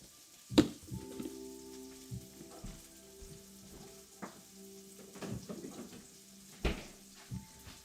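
Bacon frying in a pan on the stove gives a faint, steady sizzle, broken by a few sharp knocks and scrapes as it gets stirred, with no voices.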